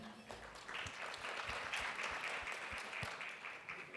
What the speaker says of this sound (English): Please give Bridie a big hand.